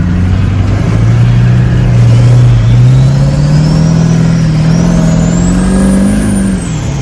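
A diesel-powered Chevelle's engine revs while driving, a loud, close, continuous drone that climbs in pitch, eases slightly, then rises again with a high whine above it and no talking.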